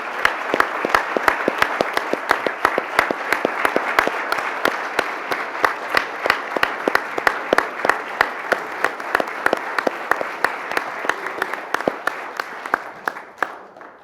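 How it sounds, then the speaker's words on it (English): Audience at a city council meeting applauding Vietnam War veterans, sustained, dense clapping with sharp individual claps standing out, continuing for many seconds before tapering at the end. "Let's give them individual round of applause."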